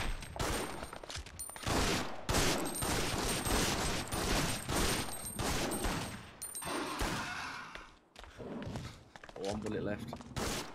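Gunfire in Resident Evil Outbreak, File 1 and 2 online play, including revolver shots: repeated sharp bursts and thuds across the clip with people talking over them.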